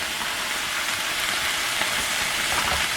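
Zucchini, mushrooms, red onion and asparagus sautéing uncovered in a pan, giving a steady, dense, close sizzle that holds evenly throughout with no voices.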